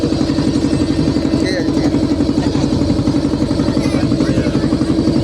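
A small boat engine chugs steadily on a river with migratory birds nearby, a loud, close, continuous low throb with rattling clatter that runs the whole time, with no speech over it.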